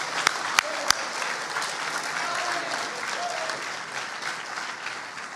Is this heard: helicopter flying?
no